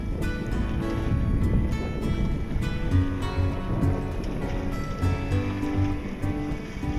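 A sailboat sailing solo on a light breeze makes a steady wash and slosh of water against the hull just after tacking, with wind noise, continuous and fairly close.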